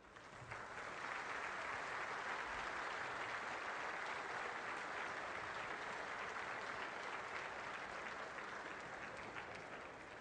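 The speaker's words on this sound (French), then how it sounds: "Mesdames et messieurs, je vous demande d'applaudir." Audience members at a ceremony marking the end of coal mining at Merlebach break into sustained, even applause that continues for about ten seconds, a broad wash of many hands clapping from across the hall.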